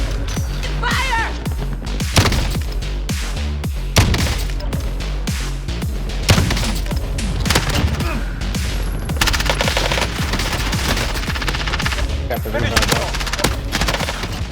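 Rapid gunfire in the Call of Duty: Warzone shooter game, a dense run of sharp repeated shots and bursts that carries on throughout, loud and close, with some voice underneath.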